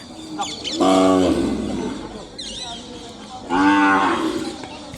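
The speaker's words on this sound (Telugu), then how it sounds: "ఇంకో చూడండి ఆవులు" Cattle moo loudly at a livestock market at Kodad, with two long, close calls separated by a pause, over background crowd chatter and a bird chirp.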